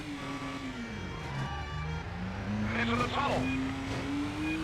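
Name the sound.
car engine revving in a Stuntman video game drive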